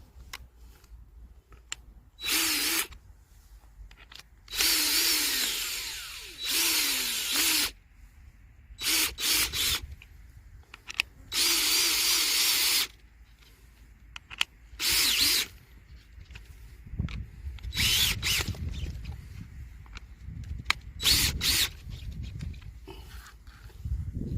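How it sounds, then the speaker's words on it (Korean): A power drill with a core bit bores holes in a sprinkler hose in a garlic field, running in repeated short whirring bursts with pauses between them, loud and close. "요 구멍을 뚫어야 되기 때문에요 이 코아로 코아로 구멍을 뚫습니다"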